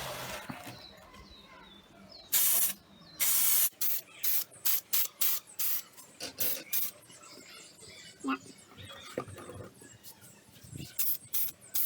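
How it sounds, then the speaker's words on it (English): Finish sprayed onto a wooden center table from a distance: repeated short bursts of loud hiss, each lasting about half a second, with brief pauses between, over quiet workshop background. "I'm going to spray it from quite a distance to get the effect"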